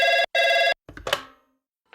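An old-style telephone bell rings in two loud, steady bursts separated by a brief gap, followed by a clattering pickup of the handset, with no voices present.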